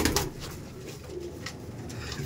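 Paired Nager Kol pigeons, an Abluk pigeon breed kept by a fancier, coo softly and continuously at close range over a low murmur of background noise, with no talk.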